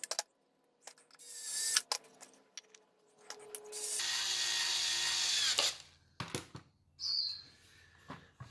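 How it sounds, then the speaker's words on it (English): A power drill bores a hole in wood, with a long steady whirring burst in the middle framed by short motor blips, clicks and handling noises, plus faint chirps in the background. "So we'll just go drill a hole."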